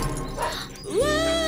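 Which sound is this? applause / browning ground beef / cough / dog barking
dog barking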